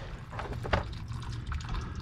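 Water trickles and gurgles steadily, dribbling and splashing in small irregular bursts at close range as it drains out through five drilled holes around a big chunk of ice.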